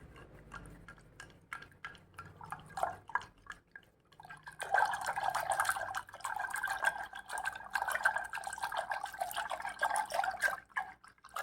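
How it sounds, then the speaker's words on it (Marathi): Buttermilk (mattha) with added water being churned by hand with a wooden ravi, a steady wet sloshing and dripping that starts faint and swells into continuous close churning after a few seconds, with no talking. "तर आता आपण रवीने घुसळून घेऊया"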